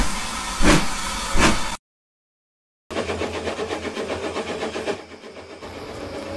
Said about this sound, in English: Timothy puffed down the line, the rails hummed, the moon was full, and the coaches clattered behind him.